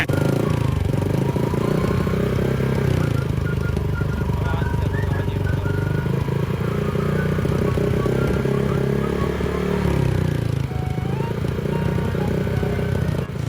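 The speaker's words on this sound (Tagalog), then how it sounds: "pakinggan lang ang tunog ng kanyang pipe dahil ito ay namamalya" A motorcycle from Montalban, Rizal runs with its exhaust pipe misfiring and slightly backfiring, giving a close, loud, uneven engine chug with irregular stumbles and throttle blips.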